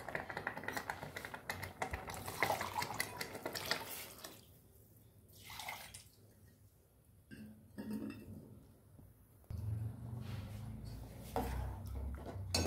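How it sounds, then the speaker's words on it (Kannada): Water is poured into a simmering pot of field-bean curry with dried fish, splashing in uneven bursts with light metallic clinks and quiet gaps between pours. "ಸ್ವಲ್ಪ ನೀರು ಹಾಕ್ಕೊತೀನಿ ಇದಕ್ಕೆ."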